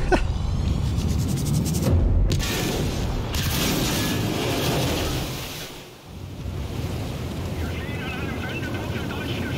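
A mine explosion strikes a submarine in the Sniper Elite 5 video game, opening with a heavy boom followed by a long rushing, roaring wash of water and wind-like noise that slowly dips and swells.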